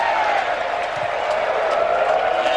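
A partisan crowd at a 2005 indoor track meet roars continuously, a broad wash of cheering and clapping with a faint sustained tonal note riding over it.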